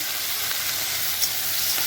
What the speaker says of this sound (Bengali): মাছগুলো দিয়ে দিলাম এখন এটা সুন্দর করে ভাজা ভাজা করবো